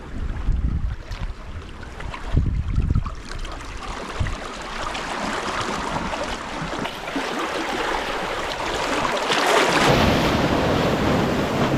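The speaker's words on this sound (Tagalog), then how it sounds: "Bigla po may agos guys, oh." Wake from a large passing ship surges as a sudden rush of waves and churning water near a small boat off Ibiza, Spain, with a steady broadband wash that swells louder toward the end, no talking.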